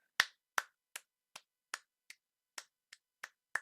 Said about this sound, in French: Je pense qu'on peut s'applaudir.